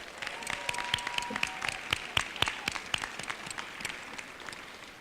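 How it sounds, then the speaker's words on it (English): Applause from an audience at an Equality Florida celebration, a moderate crowd clapping in a fairly sparse, uneven patter with some distinct individual claps, heard from a little distance at low volume. "So give yourself a round of applause."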